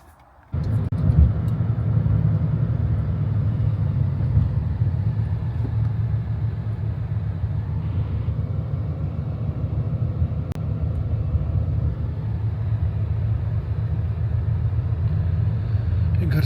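Steady low engine rumble heard from inside a car while driving, a constant droning hum throughout after a brief quiet start.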